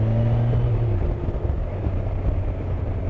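A Kawasaki Versys 1000 motorcycle engine in low-power throttle mode runs at a low, steady rumble with a humming drone that fades slightly early on, and no voices.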